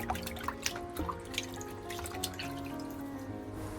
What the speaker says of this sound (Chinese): 特别是大葱根部有须须的地方，一定要把它掰开来彻底的清洗一下